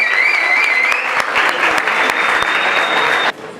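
An audience at a university talk on Bogotá's climate and geological history applauds a panelist with loud, dense clapping that carries on evenly with a high whistle-like tone above it, then cuts off abruptly near the end.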